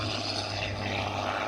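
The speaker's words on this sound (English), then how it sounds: "Building that all-important airspeed for this airplane." Propeller-driven aerobatic airplane building airspeed at a New York airshow, a steady droning engine roar holding at constant loudness for the whole stretch, with no voices.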